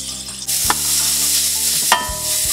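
Minced garlic sizzles loudly in hot oil in a pan, a steady close hiss broken by a few scraping stirs, with no one speaking.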